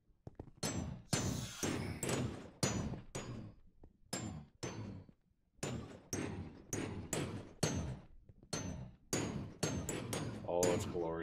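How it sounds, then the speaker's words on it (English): In a Minecraft mob grinder, loud percussive hits and cracking thuds of mobs being killed arrive in a rapid, uneven series, some ringing briefly, with occasional bone-cracking sounds among them. "Your death is kind of musical. With the occasional bone cracking sound."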